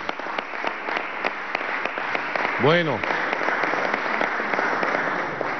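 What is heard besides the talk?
applause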